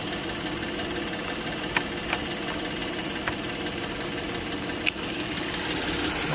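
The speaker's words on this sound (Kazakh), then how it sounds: "Таза, жақсы істеп тұр мотор." A 2011 Hyundai Grandeur HG with a 3.0-litre GDI petrol engine and 129,000 km on it idles smoothly, a steady mid-pitched hum with light rhythmic ticking and a few sharp clicks, with no voices.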